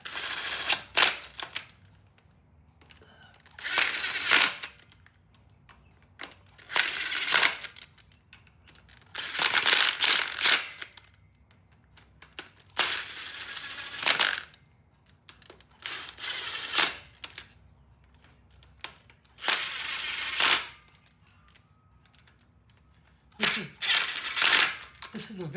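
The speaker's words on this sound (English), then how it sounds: "This is a very gentle impact tool." A gentle impact tool drives the timing cover bolts on a Norton motorcycle in several short bursts of rapid rattling hammering, separated by quiet pauses, close up, with someone talking at times between bursts.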